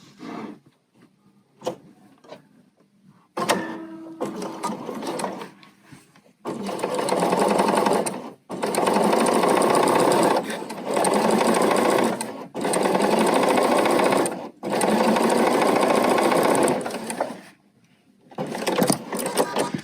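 Bernina sewing machine stitching pintucks with the needle position set to -3, running loud and close in several long bursts with short pauses between, after a few quiet handling clicks at the start.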